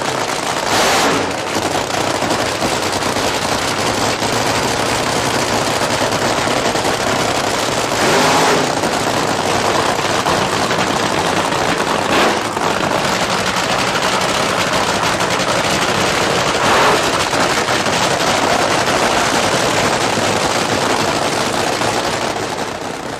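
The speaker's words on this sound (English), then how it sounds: "Just listen to the sound of these nasty dry hops" Drag racing car from the match-racing era, Chi-Town Hustler, doing nasty dry hops with cackling pipes: a loud, continuous raw engine roar with sharp bursts and crackles throughout, close and dominating.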